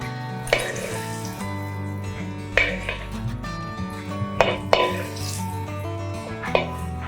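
Coconut pieces, cashews and raisins fry in hot ghee, giving a steady soft sizzle, with a few sharp clinks of a metal spoon against the pan.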